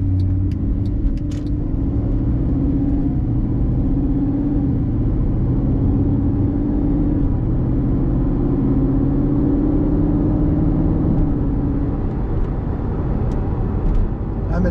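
Cabin of a 2011 Mercedes-Benz SLS AMG picking up speed, a loud, steady low engine drone and rumble that holds constant throughout with little change in pitch.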